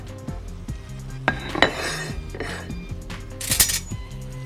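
A serving plate is set down on a kitchen counter while duck breasts and mashed sweet potato are prepared, giving a few clinking ceramic knocks among soft dish and pan clatter, close and fairly loud.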